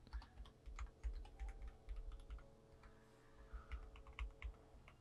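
Many computer keyboard keys pressed in quick irregular bursts while a glitchy game is being tested, close and fairly quiet clacking with short gaps between flurries and no talking.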